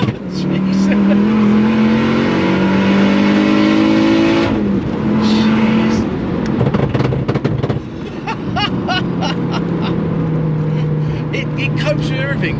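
A 500bhp Mk6 Ford Fiesta RS swapped with a Focus RS 2.5T engine accelerates hard, with a loud rising engine note, gear changes and pops from inside the car while people talk over it.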